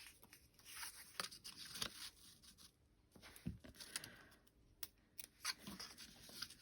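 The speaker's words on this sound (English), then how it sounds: "I'm just going to tear a bit off the bottom." Thick card is torn by hand in a quiet room, a series of soft, fibrous ripping and rustling bursts of varying length, close and faint.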